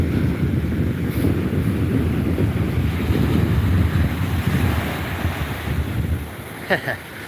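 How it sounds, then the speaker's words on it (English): Ocean waves break on a beach where people are boogie boarding. The surf makes a steady, loud wash of rolling noise with wind buffeting the microphone, and a faint voice comes through near the end. "I love the sound of the waves."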